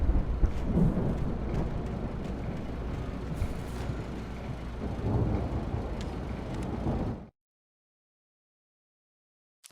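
A thunderstorm rages in the Alan Wake video game, with heavy rain hiss and deep rolling thunder rumbling continuously for about seven seconds before cutting abruptly to silence.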